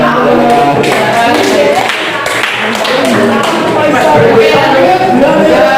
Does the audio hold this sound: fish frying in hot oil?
no